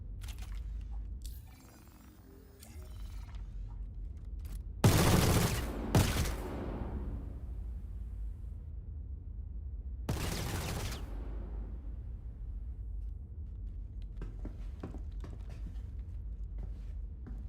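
A light machine gun firing in the Star Citizen video game, two loud, sustained bursts of rapid fire a few seconds apart, with reverberating tails and quiet ambience between them.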